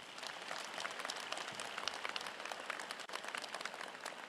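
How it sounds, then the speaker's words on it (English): Applause from the audience at a university's fall commencement ceremony, a steady wash of many hands clapping at a moderate, somewhat distant level throughout. "Let's give him a round of applause."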